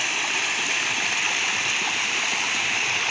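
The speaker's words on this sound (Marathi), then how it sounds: "आणि पाणी डायरेक्ट खाली जातं." Water from a small village weir tumbling straight down, a steady broadband rush that holds loud and even from start to finish with no voices.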